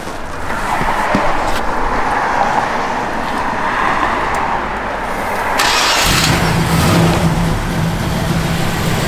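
A 1971 Chevrolet Nova SS engine cranks and catches, then runs at a steady rumbling idle up close, with a deeper tone as it settles.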